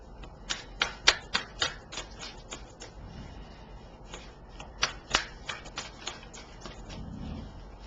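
Tarot cards being shuffled and drawn, a series of quick crisp riffling snaps and flicks close to the microphone, fairly quiet, with no talking.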